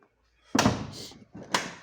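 A Tesla Model Y door shuts with a solid thump, followed about a second later by a second close, both near and fairly loud in a quiet space.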